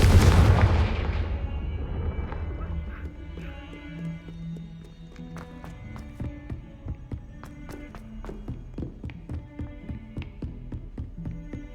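A Confringo fire spell from Hogwarts Legacy goes off with a loud, booming explosive blast, followed by a rumbling tail and a scatter of lighter crackling and clattering impacts.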